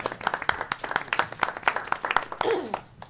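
A group at a board meeting claps, a quick, fairly even run of hand claps at moderate volume. A voice briefly rises near the end as the clapping fades.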